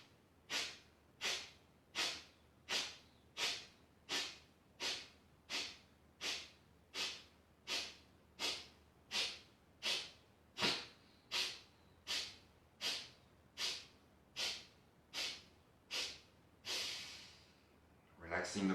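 Deep nasal breathing during a relaxation exercise: about twenty steady, rhythmic breaths in quick succession, each a close, loud airy rush, continuing evenly without speech.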